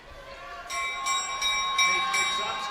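A bell rings for the final lap of a long track speed skating race at the US Championships, several bright, ringing strokes in a steady repeated rhythm over crowd noise and an announcer talking.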